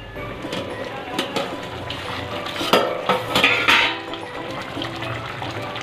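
A pot of Rayalaseema-style fish curry is covered with a plate, giving a series of close metallic clinks and clatters of dishware, with one louder cluster of knocks near the middle and no talking.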